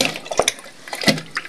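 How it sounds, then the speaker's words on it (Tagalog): Soaking water is poured out of a bowl while rice is being prepared for soup in a home kitchen, giving short splashy gushes and a few drips, close by and with no talking. "Tapon ko na yung tubig."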